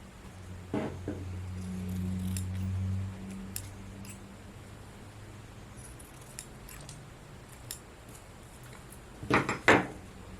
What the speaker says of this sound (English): And now we'll just cut those pieces out.